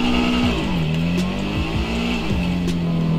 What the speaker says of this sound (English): Just listen for whenever the sound goes from high rev back to low rev.